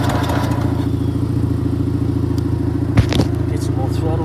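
A 6x4 ride-on racing mower engine chugs at a steady, close idle with a rapid pulsing beat, with a sharp thump and a brief clatter about three quarters of the way through.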